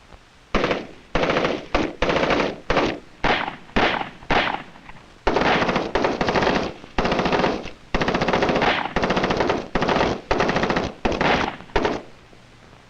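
Captured enemy machine guns fire during 1960s military training, loud sustained bursts of rapid shots separated by short pauses, over a dozen bursts in quick succession with no talk.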